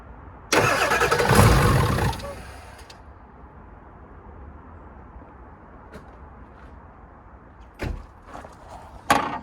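A 1996 Ford 7.3L Power Stroke diesel cranking on a cold start with a no-start fault: a loud burst of cranking for about two seconds, then a low idle-like rumble and a few sharp clunks.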